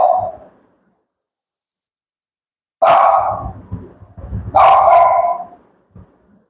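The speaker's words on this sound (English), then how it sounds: "My dog is barking, very sorry about it." A nine-year-old dog barks indoors: one bark, a pause of a couple of seconds, then two loud, close barks in quick succession, with a few softer trailing sounds between and after them.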